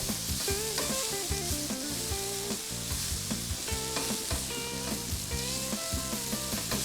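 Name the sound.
sautéing onion in a pan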